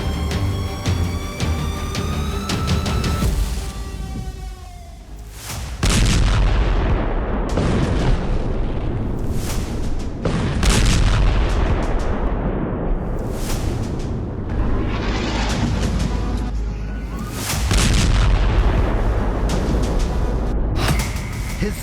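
Heavy explosions from an Israeli airstrike on Yemen, a dense sequence of loud booms and rumbling blasts following one another over sustained roaring background noise, with no voices.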